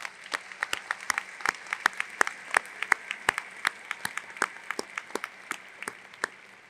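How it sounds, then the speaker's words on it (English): Sparse, scattered clapping at a university new student convocation, with individual hand claps standing out distinctly rather than merging into a roar. "let's give them a big round of applause because they have been magnificent."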